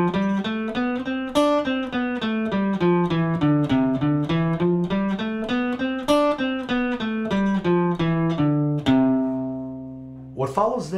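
A guitar plays a rapid scale run up to the ninth, single notes climbing and falling, evenly paced and clear, ending with a final ringing note and a brief strum.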